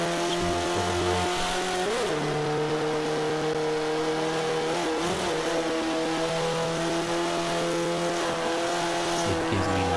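A racing car in Forza 5 skids with tire squeal after a handbrake pull, its engine droning steadily and loudly throughout, with brief sliding squeals around the two- and five-second marks.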